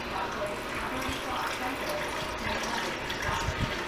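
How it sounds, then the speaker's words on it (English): Water pours into a container while apple wine is being made, a steady splashing gush that runs throughout, with a person talking over it. "Okay, I see my water level coming up."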